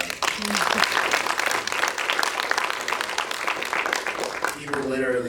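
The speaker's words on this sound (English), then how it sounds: "we clap for that." An audience at a Q&A session breaks into dense, sustained applause that holds steady for several seconds, with cheering voices mixed into the clapping and a short stretch of speech near the end.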